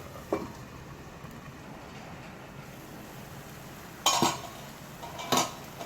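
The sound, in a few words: covering the pot of tomato puree gravy with a lid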